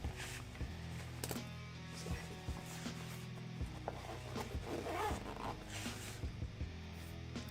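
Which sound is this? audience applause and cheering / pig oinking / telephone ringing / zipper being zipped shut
zipper being zipped shut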